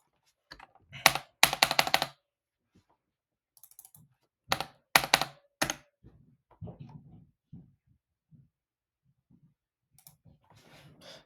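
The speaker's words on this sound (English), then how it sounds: "So I'll say number, or I'll just type it up." Keys clatter on a computer keyboard in short close bursts of rapid clicks separated by pauses, with quieter scattered taps between, no talking over it.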